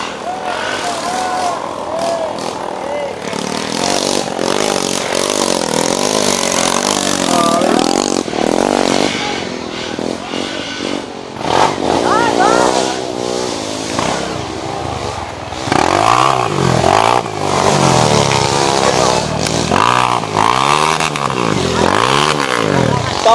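A small 50cc dirt bike engine revs hard and buzzes continuously on a trail, rising and falling in pitch, loud and close with some clatter throughout.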